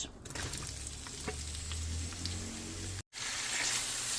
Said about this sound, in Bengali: আমার এই গরম মশলাগুলো যখন একটু হয়ে এসেছে লাল তখন আমি অ্যাড করছি এর সঙ্গে পেঁয়াজ